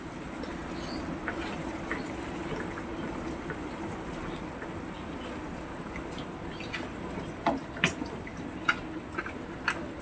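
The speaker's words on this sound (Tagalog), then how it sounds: "Kumukulo na siya" Chicken fricassee with cream simmering in a pan, a steady close bubbling hiss with scattered small pops and plops that grow more frequent toward the end.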